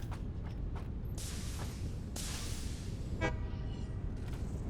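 A train horn sounds in Satisfactory, a short tonal honk with a brief harmonic blast partway through, heard at a distance over steady low game background noise, alongside a few broadband whooshes.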